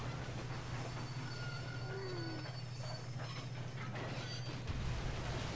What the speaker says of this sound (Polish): I stop that damn train.